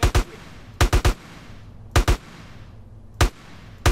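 Assault rifle fire in the video game GTA San Andreas comes as loud, sharp gunshots in short bursts of one to three shots with brief pauses between them, and no talking over it.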